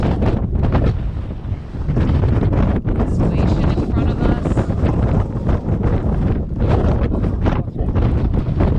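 Strong wind ahead of a coming storm, gusting to 28, buffets the microphone in a constant, roaring rush with gusty surges, while a person speaks briefly under the noise.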